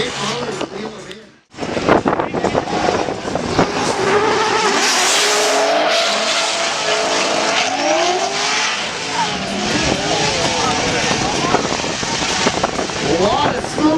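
Drift cars with big motors, among them a Chevy, accelerate hard with loud wheel spin and tire squeal during a drift competition. Engine roar sustains almost the whole time after a brief quiet start, with a commentator talking over it.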